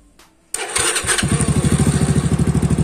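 A motorcycle's electric starter cranks briefly and the engine catches, settling into a loud, steady, close idle with an even pulsing rhythm.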